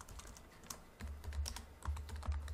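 Typing on a computer keyboard, close and fairly quiet: a quick, uneven run of light key clicks with a few heavier thumps, about two and a half seconds long.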